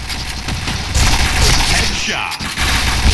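Gunfire in a Point Blank online first-person shooter, a dense rattle of shots that builds and runs loud through most of the stretch, with players shouting and talking over it.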